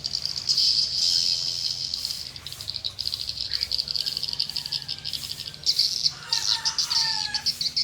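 Swiftlets at a bird house call in dense, repeated high chirps and rattling trills, steady and fairly close, forming a continuous chattering chorus with brief louder bursts.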